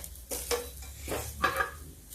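Whole cloves and bay leaf roast in a little oil in a pot, stirred with a spoon, giving a few short scraping sweeps and light clinks over a faint sizzle.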